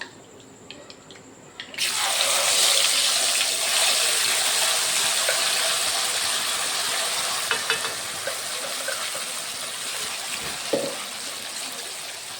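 Loud, steady sizzling and crackling bursts in abruptly as hot oil tempering is poured into paneer gravy, continuing without pause, with a brief clatter near the end; no voices.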